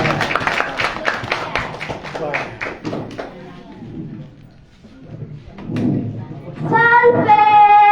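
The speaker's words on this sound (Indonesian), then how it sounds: "Kita sambut dengan tepuk tangan yang meriah." At a children's scripture storytelling contest, the audience claps in a rhythmic, loud, unison beat for a few seconds that fades out, then a voice speaks and tonal music rises at the end.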